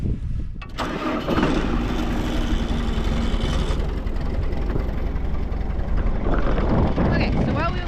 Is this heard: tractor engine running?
yes